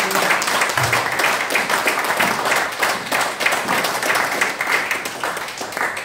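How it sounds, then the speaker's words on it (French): A church congregation applauds loudly, a dense, sustained wash of clapping from many hands filling the room with a slightly uneven rhythm. "Applaudissons très fort pour la gloire"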